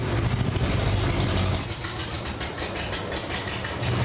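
A junkyard Ford 445 FE V8 fitted with modern EFI, leaking oil and running on only five cylinders, idles with a loud, continuous rough rumble and no pauses.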